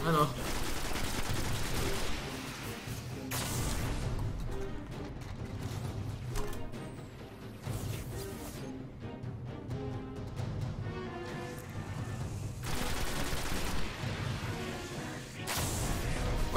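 Gunfire from the video game Destiny on PS3 rattles in sustained bursts of rapid shots and heavy impacts, loud and continuous across the stretch, with short gaps between volleys.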